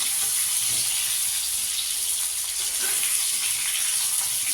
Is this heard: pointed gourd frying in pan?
yes